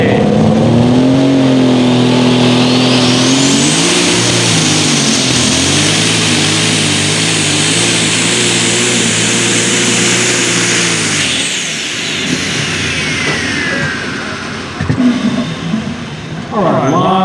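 A Case International light super stock tractor roars at full throttle during a pull in Hillsboro, Tennessee, a loud sustained engine wail that climbs and holds, then drops off, with an announcer talking over it.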